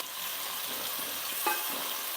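Two large, finely chopped onions sizzle and crackle steadily in hot oil for fish kulambu, a soft continuous frying hiss with occasional stirring sounds, no talking.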